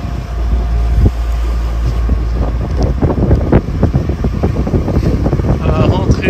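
Strong westerly wind, force 4, buffets the microphone aboard a sailboat with a constant low roar, while voices and clattering noises come through on top.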